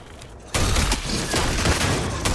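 In Starfield, a grenade blast bursts in abruptly and is followed by dense, sustained gunfire, loud and close, with no clear talk over it.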